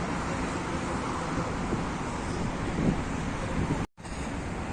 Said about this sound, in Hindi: आज जो है ना हवा चल रही है